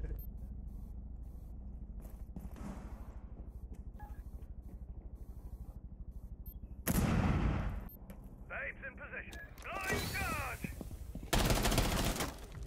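Gunfire shooting through a wall in the Rainbow Six Siege video game, quiet at first, then loud bursts of rapid shots and sharp impacts toward the end, with faint voices around them.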